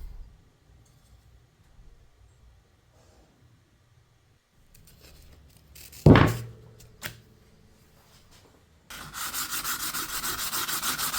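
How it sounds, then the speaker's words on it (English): Sandpaper rubs old varnish off a wooden hatchet handle, a steady close scratchy sanding that starts after a quiet stretch and a few knocks and then continues without talk. "Sand off the old varnish and get it to a consistent finish."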